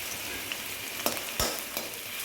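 Onion and chilli frying in a pan as a garnish for chilli chicken, a steady broadband sizzle broken by a few sharp scraping stirs, close and moderately loud with no talking.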